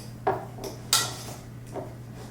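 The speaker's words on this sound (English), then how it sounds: "I'm using a fork to mix it with because it's easier to me to mash everything together" A fork works a stiff cream cheese and bacon filling in a bowl, producing a few distinct clinks and scrapes against the dish over a low background hum, close by and without speech.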